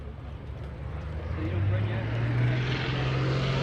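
A T-34 Mentor propeller airplane on its takeoff roll at the Greenwood Lake airshow, its engine droning louder and rising in pitch as it builds power, under a commentator's voice.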